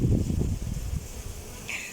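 Honeybees buzz in a dense, continuous drone close by, the hum thinning out toward the end.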